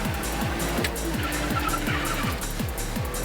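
A Japanese mini truck slides through a corner in a competition run, its small engine revving in quick repeated rising pulses while the tires squeal, loud and near.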